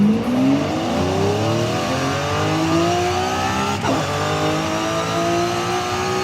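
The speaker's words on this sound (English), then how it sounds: "But in Forza Horizon 5, watch how this car shifts." A Lamborghini Aventador in the Forza Horizon 5 racing game accelerates hard, its engine note climbing in repeated sweeps with quick, crisp gear shifts in between, loud and close with no talking.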